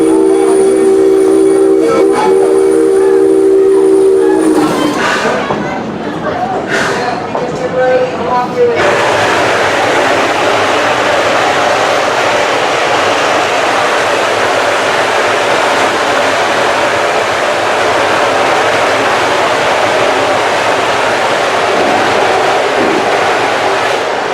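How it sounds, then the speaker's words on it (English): A real working steam locomotive at an amusement park vents excess boiler steam in a loud, sustained broadband hiss lasting about twenty seconds, preceded by a brief steady whistle-like tone. "Engineers have just released some excess steam from the boiler to help prevent the buildup of mineral deposits in its real working steam locomotive."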